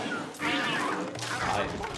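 Cartoonish cat meows and yowls from the Luigi's Mansion 3 video game, two drawn-out cries over busy game effects, with a player's voice talking across them.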